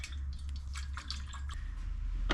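Water poured from a bottle onto a small scrubby pad, faint soft drips and wet splashes scattered over a couple of seconds, close but quiet.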